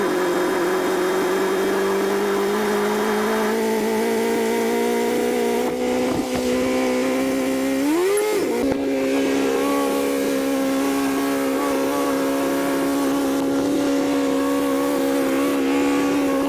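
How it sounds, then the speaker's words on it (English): A 1987 Kawasaki ZG1000 motorcycle engine idles steadily after starting, a loud, continuous close-up drone whose pitch rises gradually as it warms, with a brief blip of revs partway through. "I'm going to warm this bike up"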